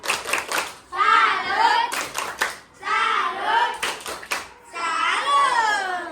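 Grade 5 pupils perform a rhythmic salute clap in class, quick patterned hand claps alternating with their chanted voices in three repeating rounds.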